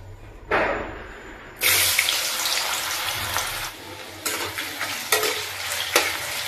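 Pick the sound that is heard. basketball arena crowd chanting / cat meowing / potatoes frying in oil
potatoes frying in oil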